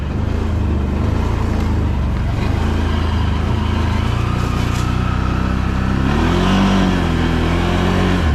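A Can-Am Outlander 1000 XMR ATV in 2-wheel drive accelerates hard, its engine droning loud and close with a steady roar that climbs in pitch toward the end, no talking.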